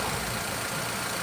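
A rebuilt 1.0 Zetec Rocam engine in a Ford Fiesta idles steadily and close by, a continuous low, even hum with no voices over it.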